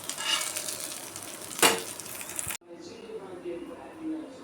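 Soya chunk (meal maker) cutlets frying in a pan with a steady, close sizzle, a brief utensil clatter in the middle, then a quieter stretch after a sudden cut.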